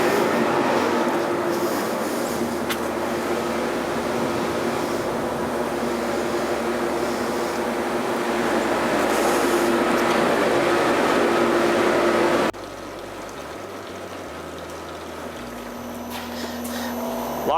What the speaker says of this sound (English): I turn my low pressure blower all the way up and put my high pressure blower on